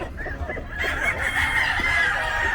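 Fighting roosters and chickens clucking and calling at a pet market in Bocaue, fairly close, with a continuous background murmur.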